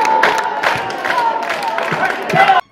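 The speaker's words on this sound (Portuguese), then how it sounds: "Cornetas, palmas, hinos e gritos de guerra se ouviam durante todo o embate." Football supporters in the stands at a youth tournament in Abrantes cheer loudly as a dense crowd, with clapping, chanted calls and shouts rising in bursts before cutting off abruptly.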